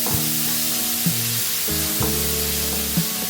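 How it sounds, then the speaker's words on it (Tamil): Two chopped tomatoes sizzle in hot oil in a pan for blue crab curry, a steady close frying hiss with a few spoon stirs and clinks against the pan. "நல்லா வதக்கிடுவோம்."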